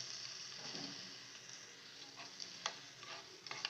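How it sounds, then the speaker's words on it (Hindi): Garlic cloves fry in hot oil, browning, with a steady soft sizzle and occasional light scrapes and clicks of a spoon stirring them in the pan. "ये चमचे के साथ थोड़ा थोड़ा इसको हिलाते जाएंगे हम।"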